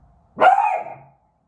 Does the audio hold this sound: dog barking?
yes